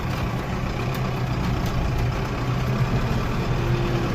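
A tractor engine running steadily while driving across a ploughed field, a low continuous diesel rumble heard from inside the cab, even and unbroken throughout.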